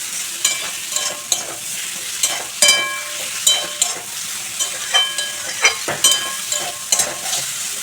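Chopped ridge gourd is stirred into frying spice masala in a pan for a rui fish curry with potato, a steady sizzle broken by repeated spatula scrapes and clacks, close and clear.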